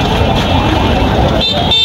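Congested street traffic in Bogura town near a railway crossing, a steady dense rumble of engines with several short car horn toots sounding close by toward the end.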